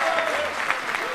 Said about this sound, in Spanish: vamos a recibir con un doble aplauso a Pascual Ferri.